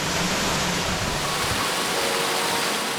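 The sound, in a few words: waterfall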